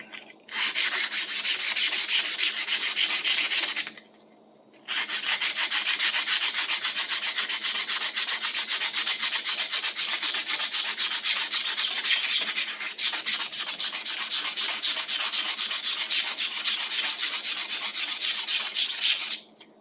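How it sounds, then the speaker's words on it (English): Steady abrasive scraping of sandpaper against a rusty wood plane blade runs on in long continuous strokes, close and fairly loud, with one brief pause partway through. "Not sanding the entire thing, just where I can feel the rust."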